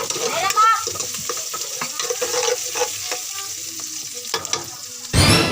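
Ginger, black pepper and bay leaves sauté in a hot pan for a chicken dish, with close oil sizzling and crackling under repeated scraping stir strokes, ending in a sudden louder burst of sizzle.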